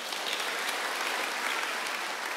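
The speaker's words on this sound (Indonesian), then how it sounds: "Tepuk tangan bagi Allah kita." A church congregation applauds during a worship service, a dense, continuous wash of clapping at moderate loudness with no talk over it.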